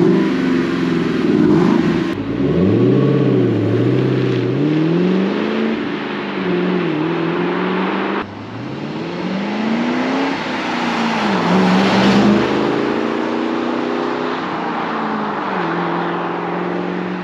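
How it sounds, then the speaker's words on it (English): Stock-exhaust Ford Mustang engine revved repeatedly, loud and close, with rising and falling pitch sweeps across several throttle blips and a steady idle between them. "Rev it up."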